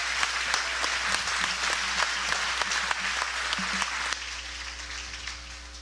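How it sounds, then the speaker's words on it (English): Audience applause for the athletes at a masters fitness championship event, a steady burst of clapping from a crowd that fades out toward the end, with faint background hum. "a big round of applause for the athletes"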